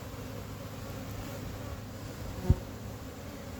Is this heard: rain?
no